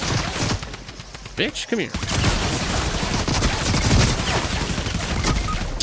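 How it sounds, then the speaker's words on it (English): SMG fire in Fortnite crackles in rapid bursts, loud and close, with a steady rattling volley over the latter part while a player shouts over it. "He's got a fucking SMG."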